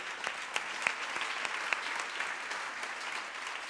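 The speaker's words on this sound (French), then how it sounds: "on peut les applaudir" An audience in a hall applauds the partner associations of a women's programme, a steady wash of many hands clapping at moderate distance with a few sharper claps standing out, and no voices over it.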